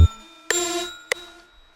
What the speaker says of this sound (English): Now, if you notice, the bells go up right here.